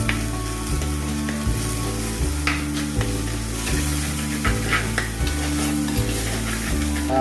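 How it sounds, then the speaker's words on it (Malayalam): Crushed garlic and ginger sizzle steadily with shallots in hot oil for a Kerala-style fish curry, a continuous frying hiss with a few stirring scrapes over a repeating tonal background. "വെളുത്തുള്ളിയും ഇഞ്ചി ഇടിച്ച് വെച്ചിരിക്കുന്നത് ചേർത്ത് കൊടുക്കാം ഇനി ഇത് നല്ലതുപോലെ ഒന്ന് വഴന്ന് വരണം"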